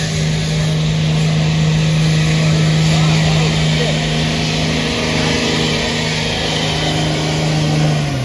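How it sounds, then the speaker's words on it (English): A diesel truck at a fall fair truck pull, its engine droning loud and steady with a strong low hum, revving under the crowd noise as spectators talk nearby. "Oh, this is the diesel."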